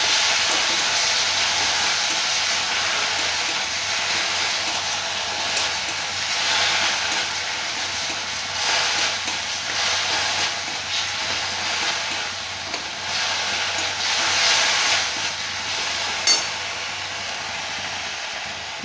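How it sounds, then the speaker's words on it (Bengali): Onion, ginger and garlic paste sizzles in a pan as it is fried down for a pepper curry, a steady, close hiss that swells and eases in waves, alone without talk. "এটা ভালো করে কষিয়ে নিতে হবে।"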